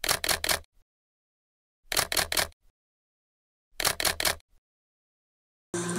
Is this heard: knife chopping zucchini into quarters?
no